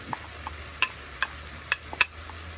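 A utensil knocks and scrapes in a pan while stirring minced apple and carrot for chicken bopis, a few sharp separate clacks over a faint sizzle, close and quiet.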